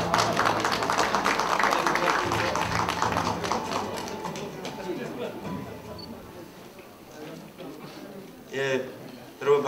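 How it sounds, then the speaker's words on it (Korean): Dense applause from an audience at a Korean political party committee launch ceremony swells at the start, then thins and fades as a voice takes over. "큰 박수로 맞이해 주시기 바랍니다"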